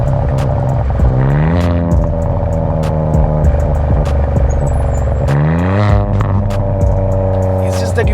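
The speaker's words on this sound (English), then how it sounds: "I have to say the DCT upshifts and the downshifts sound pretty damn nice" Hyundai i20 N-Line with DCT gearbox and exhaust valves open, engine droning steadily with rising and falling pitch sweeps through upshifts and downshifts, loud and continuous, close inside the car.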